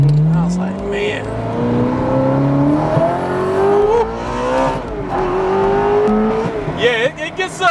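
A Ferrari F430 Coupe accelerates hard from inside the cabin, its engine note climbing steadily through the gears with brief dips at each shift, loud and continuous.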